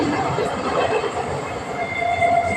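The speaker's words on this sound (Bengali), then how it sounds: "ওই যে ট্রেন যাচ্ছে ওই তো ট্রেনটা যাচ্ছে" A train rumbles past close by, a steady broad roar with faint metallic squeals near the end, no voices.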